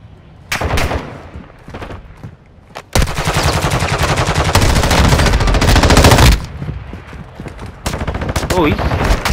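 Bursts of gunfire and sniper shots in the Call of Duty DMZ video game: scattered single shots, then a long loud automatic volley, then more shots, with players talking over parts of it.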